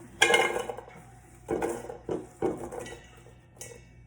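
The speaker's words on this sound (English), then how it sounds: "I'm gonna put them in my Instapot pot" Cut vegetables drop into an Instant Pot in a home kitchen, making several clattering knocks against the metal pot spaced over a few seconds, close and moderately loud with no talk.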